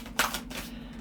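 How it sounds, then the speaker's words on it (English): Oracle cards being shuffled by hand in a quiet room, giving a short burst of papery riffling and card slaps near the start, then softer sliding and tapping. "they're telling me to shuffle again."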